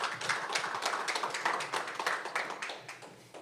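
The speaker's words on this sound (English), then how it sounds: "And if we can start by putting our hands together and giving a round of applause." An audience at a Startup Grind event claps for the Rocket Dollar founding team, a moderate, steady patter of many hands that keeps going evenly from start to finish without tailing off.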